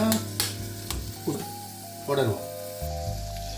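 Onions fry in a pan on low heat with soft sizzling under a few clinks and scrapes of a spoon against the pan; occasional low hum in the background.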